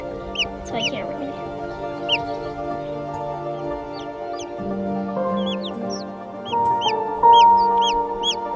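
Guinea fowl calling in a pen, sharp repeated squawks and chatter over a busy mix of poultry sounds, close by, growing louder toward the end.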